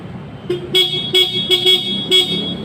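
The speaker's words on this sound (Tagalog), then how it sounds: "tsaka lang tutunog yung busina" A misfiring car horn being tested honks in a series of short, loud toots of varying length, with one longer blast near the end.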